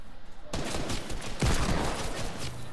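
Gunfire in the Fortnite video game, a dense barrage of loud shots that bursts in abruptly and continues without pause, with a heavy blast partway through.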